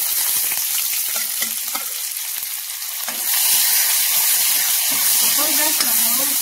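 Five-spice seeds, Leucas aspera leaves and garlic sizzle in hot oil, a continuous close crackle that grows louder and denser partway through, with stirring scrapes.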